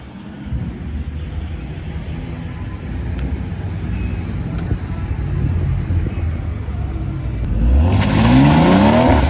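A Stage 3 BMW M140i launches down a quarter-mile drag strip, with a loud, steady engine roar that swells further near the end as rising tones sweep upward under hard acceleration.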